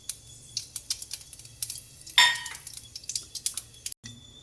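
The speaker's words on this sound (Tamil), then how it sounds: "இப்போ நம்மளுக்கு கடுகு சீரகமும் பொரிஞ்சிருச்சு" Mustard seeds and cumin popping in hot oil: a string of sharp, irregular crackles close by, with a louder burst midway and a faint clink of utensils.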